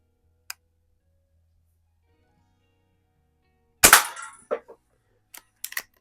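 A Markham King 1892 antique BB gun fires once with a sharp, close snap, followed by a short rattling clatter and a few light ticks and clicks in an otherwise quiet room.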